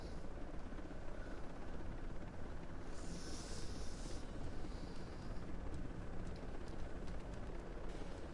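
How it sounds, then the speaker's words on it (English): Enemy helicopters pursuing in an aerial combat video game: a dense, continuous rotor and engine roar holds steady throughout, with a brief brighter whine rising over it midway. "I got an enemy helo on my 6."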